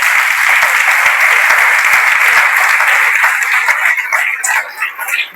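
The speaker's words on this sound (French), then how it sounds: "Acclamez pour le Seigneur." A church congregation bursts into loud, dense applause acclaiming the Lord, sustained for several seconds with some voices mixed in, then thinning out into scattered claps.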